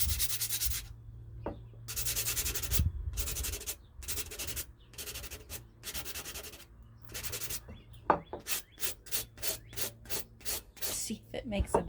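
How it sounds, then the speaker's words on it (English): Sandpaper scuffs the outside of a glass jar being made into a planter, in rhythmic rasping strokes that come in uneven bursts at first and then quicken into short, regular passes. "I'm going to use some sandpaper that I have, and I'm just gonna kind of scruff it up"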